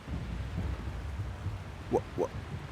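Rain and rolling thunder in the video game Shadow of the Colossus, a low rumble under a soft wash of rain, faint and steady, with two brief rising tones near the end.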